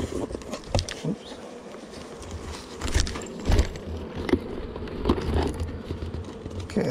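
Honeybees buzz around an opened beehive box during a check of emergency splits, a close, fluctuating drone with passing swells as individual bees fly near, and no talking.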